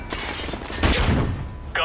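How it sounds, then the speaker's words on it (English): A flashbang grenade detonates in Call of Duty: Modern Warfare Remastered, a sharp burst followed by a loud, ringing bang amid game noise, with voices over it. "Flashbang out."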